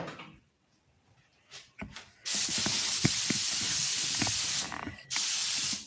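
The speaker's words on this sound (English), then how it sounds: "Nice, fine spray." Paint spray gun spraying new paint thinned roughly 50-50 with a little retarder: a loud, steady hiss in two long bursts, with a brief pause between them, after a few quiet clicks.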